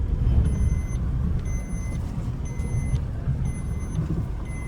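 A car manoeuvres into the shade outside a village house in Maharashtra. A steady low engine rumble runs throughout, with regular evenly spaced electronic beeps over it and no talking.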